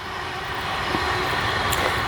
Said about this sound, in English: I'll wait for this train to go past.